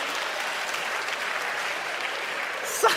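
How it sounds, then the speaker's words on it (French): An audience applauds a joke at a stand-up comedy show, with steady clapping from a crowd sustained for a few seconds, moderately loud and even, ending with a sharp louder burst. "La moitié du monde applaudit"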